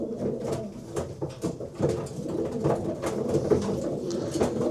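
A racing pigeon with a bright red eye and glossy feathering coos in soft, repeated low murmurs. The calls come close and moderately loud over a faint background, with no voices.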